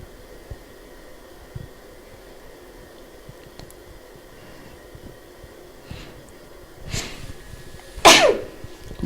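One sharp, loud sneeze bursts out near the end after a quieter lead-in breath, set against faint room hiss and soft background noise in a quiet indoor space.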